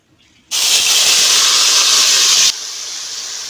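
Bitter gourd and potato slices hit hot mustard oil in a kadai with a sudden loud sizzle. The sizzle roars for about two seconds, then settles into a steadier, softer hiss. No one speaks.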